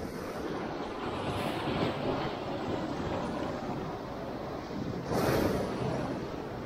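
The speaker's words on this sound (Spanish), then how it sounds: "Voy a esperar un poco de ola." Sea waves wash against a rocky fishing shore in a steady, broadband roar mixed with wind, with a louder surge breaking near the end; no one speaks.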